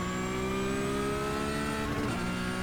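Porsche Cup race car engine at Spa in the iRacing sim, a steady high-pitched whine holding near-constant revs with a slight pitch dip near the end, loud and continuous without talk.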